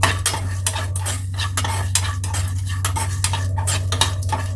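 Spices frying in a pan for butter chicken curry, stirred with a utensil that scrapes and clinks steadily over a constant low hum, close and without talk.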